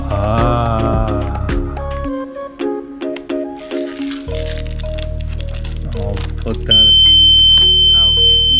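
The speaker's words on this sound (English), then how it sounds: "that big long beep was battery low." A Sea-Doo ST3 watercraft gives a long, steady, high-pitched low-battery warning beep that holds to the end, following a stretch of electronic tones and clicks with some background music.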